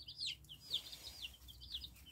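Faint, high-pitched squawks and cheeps from a young Rhode Island Red chicken come in short bursts, repeated several times over quiet background noise.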